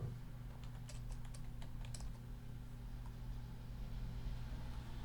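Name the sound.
typing on a computer keyboard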